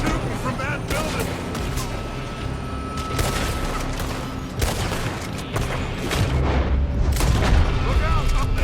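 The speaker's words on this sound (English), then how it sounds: "They're shooting from that building." Gunfire from a building in Red Dead Redemption 2, with booming shots and bursts piling up into a dense, loud, continuous barrage over game sounds.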